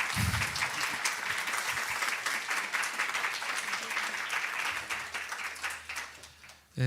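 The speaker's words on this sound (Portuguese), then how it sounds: "Uma salva de palmas aí para esse quarteto." An audience applauds a string quartet at an evening concert, sustained hall clapping with a few voices underneath, fading toward the end before a sudden loud noise.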